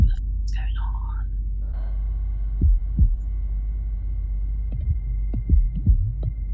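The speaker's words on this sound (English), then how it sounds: "there's like a heartbeat, but it feels like the acid bubbles" Deep heartbeat-like thumps pulse under a low electronic drone with bubbling squelches in a remix, and a voice is heard near the start.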